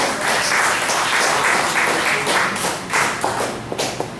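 A church congregation claps together in a loud burst of applause, which thins out toward the end into a few scattered, sharper claps.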